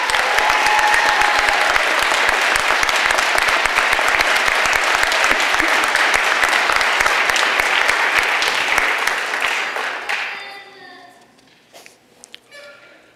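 A large crowd at a Lackawanna College Police Academy ceremony gives sustained, dense applause for graduating Class 241, loud and even for about ten seconds before tapering off into scattered claps and murmuring voices.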